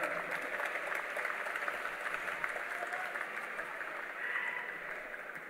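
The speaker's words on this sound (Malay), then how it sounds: "tepukan bergemuruh untuk mereka" Thunderous applause from a crowd at a Barisan Nasional youth wing launch rally, a broad sustained roar of clapping heard from a distance, steady throughout with no talk over it.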